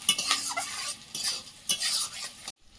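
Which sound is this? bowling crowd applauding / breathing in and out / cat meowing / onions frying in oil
onions frying in oil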